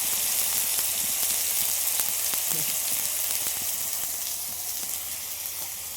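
Chopped tomato and salt hit hot oil with cumin in a pan for a tilapia curry, giving a steady close sizzle and hiss with occasional faint stirring clicks, slowly easing off.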